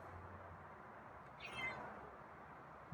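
A feral cat gives a single faint, brief meow at a distance during a quiet night-time feeding, with soft background noise around it.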